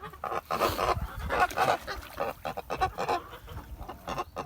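Kholmogory geese honking beside a small stream, a close, loud series of harsh nasal honks in irregular bursts, several overlapping calls with brief pauses between them.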